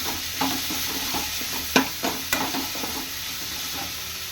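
Grated coconut, mustard seeds and ginger frying in a pan for mango rice: a steady low sizzle with a few sharper stirring scrapes and taps of a spoon against the pan.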